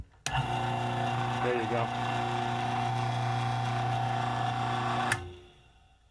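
Electric motor of a Harbor Freight drill press, just repaired, switches on and runs with a steady loud hum and whine for about five seconds, then cuts off and winds down; someone speaks briefly over it.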